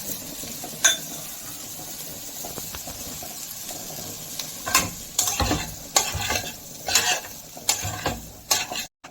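Soaked flattened rice (chire poha) is stir-fried with mustard seeds in a pan, giving a steady low sizzle punctuated by loud, repeated scraping and clanking strokes of a spatula that grow busier toward the end.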